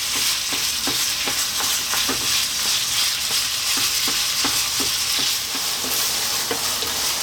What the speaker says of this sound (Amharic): እንጠብሳለን ከዘይቱ ጋር።